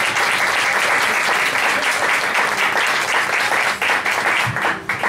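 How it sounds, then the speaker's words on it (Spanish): Audience applause for a pianist at a poetry reading in a café, a dense and steady wash of clapping that holds for several seconds and thins slightly near the end. "Un aplauso para ti"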